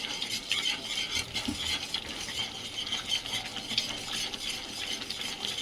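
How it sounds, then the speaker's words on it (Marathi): Bhaji batter mixed by hand in a bowl, a continuous soft, wet squishing and rubbing at a brisk, even pace, close and moderately quiet, with no voices. "आणि अशा हलवून घ्यायचे आहे हाताने"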